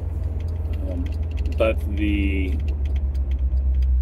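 A 1963 Ford Galaxie idles at a stop sign with a leaky exhaust, its low steady rumble continuous underneath while someone talks briefly and a short clink sounds midway.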